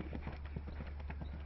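Horse hooves clip-clopping at a men's show jumping championship in Great Britain: a steady, rhythmic run of soft hoofbeats on arena footing, moderately close over a constant low hum.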